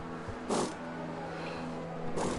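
A Formula 1 car engine in a racing video game at the Monaco Grand Prix, a steady mid-pitched drone with two brief, brighter bursts as cars pass, moderately loud and with no talking.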